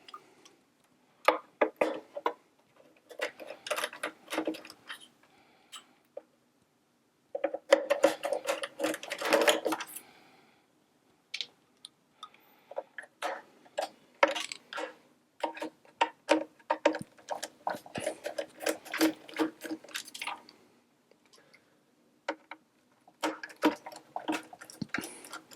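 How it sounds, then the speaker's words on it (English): A screwdriver removes the four screws holding a Sette's gearbox and motor assembly, giving close, irregular clicks, ticks and small metallic rattles in short bursts with brief pauses between. "we're ready to take out the 4 screws holding the assembly in."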